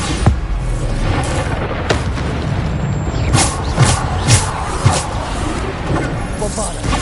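Bombarda spell blasts in Hogwarts Legacy: several deep booming explosions spaced a second or so apart, set against a constant rumbling combat background with a voice calling out spell names.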